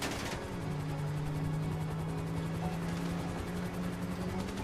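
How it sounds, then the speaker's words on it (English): Helicopter from a GTA V police chase, a dense continuous rotor roar with a steady low drone and layered engine noise, loud and sustained throughout with no pauses. "Now we got a helicopter"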